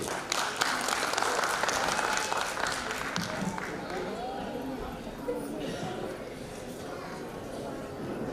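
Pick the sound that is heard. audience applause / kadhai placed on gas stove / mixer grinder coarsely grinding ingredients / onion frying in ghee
audience applause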